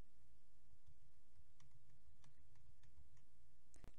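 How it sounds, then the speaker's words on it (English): Answers typed on a computer keyboard in office form-scanning software: a quiet run of light, irregular key clicks over steady background hiss, with no one speaking. "Click on the boxes and type in your question answers in the order that they appear."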